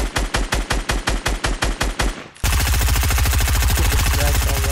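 Automatic gunfire in an online shooter game: a rhythmic run of loud, evenly spaced bursts, then a brief dip and a dense, continuous roar of rapid fire, close and dominant.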